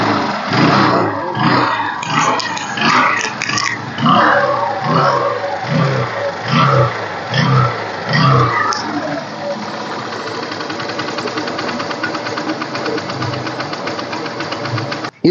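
A used 2007 scooter engine cranks and catches after several seconds of people talking, then runs on by itself with a steady, close, rattling idle.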